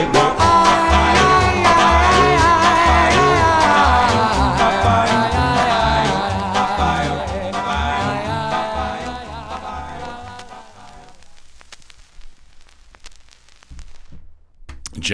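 A 1957 vinyl record plays full band music with vocals, loud and dense before fading out to scattered crackle and faint sounds near the end.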